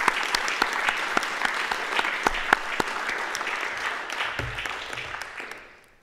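An audience at an award ceremony of the Bethlen Gábor Foundation applauds, a dense, loud burst of many hands clapping with a few sharper individual claps standing out, slowly thinning and fading away at the end.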